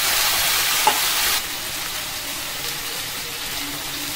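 Rice with chili garlic sauce sizzles loudly as it is stir-fried and mixed in a pan, then the hiss settles into a softer, steady frying sound.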